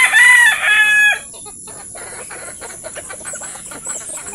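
A native rooster in a backyard poultry yard crows once, loud and close, then fainter clucks from the chickens follow.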